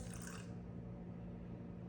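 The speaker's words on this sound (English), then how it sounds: "I need 50 grams of water." Water poured into a sourdough starter, a soft liquid splash in the first half second fading into a low, steady hum.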